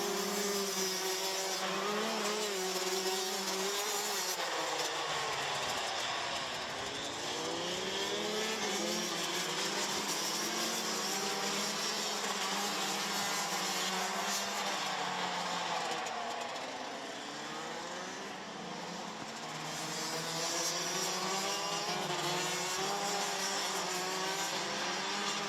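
Rotax Max racing karts buzz around the Wackersdorf circuit on a formation lap, a layered high-pitched engine drone whose pitch rises and falls as they pass, heard at a distance without talking.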